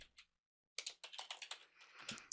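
Close, quiet clicking of a computer keyboard during document editing in Word 2013: a short burst of keystrokes, a brief pause, then a rapid run of typing.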